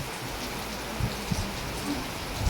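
Heavy rain pours steadily over a rural area under a stormy sky, a dense continuous hiss with a few louder drops or splashes close by.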